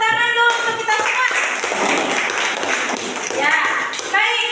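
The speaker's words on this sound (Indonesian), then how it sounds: "tepuk tangan dulu untuk kita semua" Audience clapping fills a formal classroom assessment session after group discussions, a dense steady patter of many hands sustained throughout, with a voice speaking briefly at the start and end.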